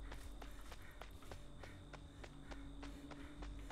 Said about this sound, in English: Her footsteps are so loud.